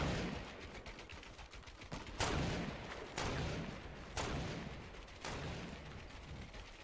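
Video game gunfire in Fortnite Battle Royale, a dense steady rattle of shots with four louder sharp reports punching through at roughly one-second intervals, close and continuous with no talk.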